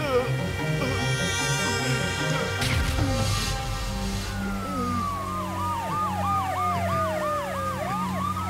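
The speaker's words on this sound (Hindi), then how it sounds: "ये सुन रहे हो ना, अ ब्यूटीफुल सायरन साउंड" A loud wailing siren rises and falls in repeated sweeps, preceded by a crash and heavy street noise, with people talking over it.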